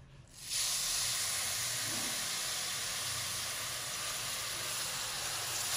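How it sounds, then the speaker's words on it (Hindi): Prepared sugar syrup poured into hot roasted semolina for sooji halwa sets off a sudden loud hiss of steam and sizzle that holds steady and close for several seconds, with no voices. "अब हम इसमें चाशनी डाल देंगे, चाशनी जो हमने पहले से तैयार करके रखी हुई है।"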